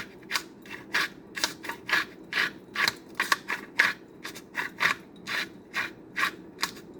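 A hand-twisted salt grinder crushing Himalayan salt, heard as a close series of short, gritty rasping crunches that repeat in a quick, uneven rhythm.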